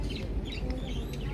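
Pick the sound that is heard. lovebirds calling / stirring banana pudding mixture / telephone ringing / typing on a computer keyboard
lovebirds calling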